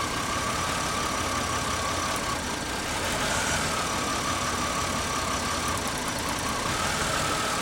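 A 2001 Pontiac Grand Am engine with a misfire idles steadily up close, a continuous rough mechanical drone with a faint uneven knock and no voices.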